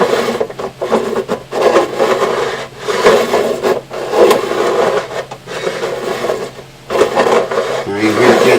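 Hand file smoothing the fret ends on a Martin 000-28 acoustic guitar, a close, rhythmic series of rough scraping strokes with short pauses between them, and someone speaking in between.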